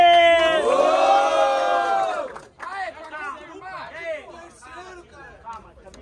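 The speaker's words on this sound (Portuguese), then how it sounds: "Barulhos pra quem curtiu as rimas de Big Mike e Alan" A crowd at a student rap battle semifinal roars and whoops together at first, then breaks into scattered shouting and chatter that gradually thins out.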